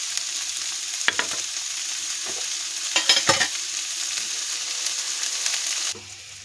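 Greens (mukkatti keerai) sizzle and fry in a pan, with stirring scrapes and a few louder clatters near the middle, steady sizzle throughout, ending abruptly.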